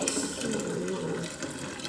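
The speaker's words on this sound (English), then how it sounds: "I just simply am pouring the sweet tea into the same jar" Sweet tea pours steadily into a glass jar, a continuous close liquid splash and trickle lasting a couple of seconds with no voices.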